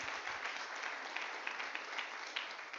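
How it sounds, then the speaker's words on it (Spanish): A church congregation claps together in praise, a steady, moderately distant patter of many hands lasting a few seconds with no speech over it. "Denle un aplauso a Jesús"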